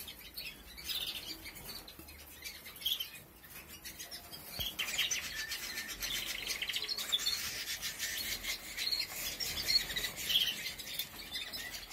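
Young birds chirp and twitter continuously, with a rasping, rubbing texture, close by and fairly faint, no speech.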